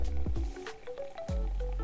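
Hot water poured from a kettle into a glass French press of ground coffee, a close, steady liquid stream with gurgling and splashing that shifts pitch as the carafe fills, briefly interrupted and then resumed.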